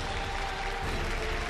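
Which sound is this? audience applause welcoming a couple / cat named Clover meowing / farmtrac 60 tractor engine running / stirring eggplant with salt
audience applause welcoming a couple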